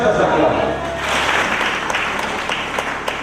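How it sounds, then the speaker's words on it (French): Congregation applauding during a Sunday church service, a dense wash of clapping that carries steadily throughout with crowd noise underneath. "Ça s'acclame."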